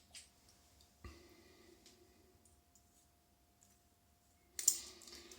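A razor blade is fitted into a Britshaver Standard safety razor, giving a few faint, small metallic clicks and taps close by in an otherwise quiet room, with a slightly louder rustle near the end.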